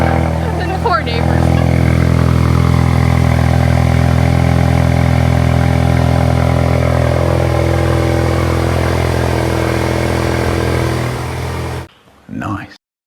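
A Ford Mustang EcoBoost fitted with a Flowmaster Outlaw exhaust, jacked up and revving loud and close with a sustained raspy roar for about eleven seconds before cutting off, followed by a brief voice.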